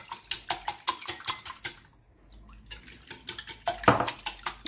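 A utensil whisks three eggs with a little milk in a bowl, giving rapid rhythmic clinks and scrapes, close and crisp. The beating pauses briefly midway and then resumes at the same brisk pace.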